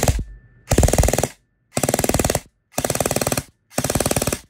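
SIG MCX airsoft rifle upgraded to about 600 fps, fired on full auto in four rapid bursts of roughly one second each, loud and close, with short silences between them.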